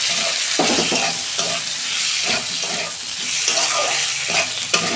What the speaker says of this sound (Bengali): দু মিনিট আমি কষাবো